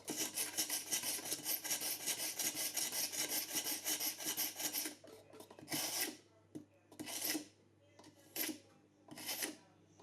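Kitchen knife blade drawn across a sharpening stone to level its edge, a fast run of rhythmic rasping strokes followed by several slower separate scrapes, close and clear with no talking.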